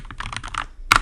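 Fingers tap a Mac computer keyboard: a quick run of close keystrokes, then a pause and one sharper, louder key press.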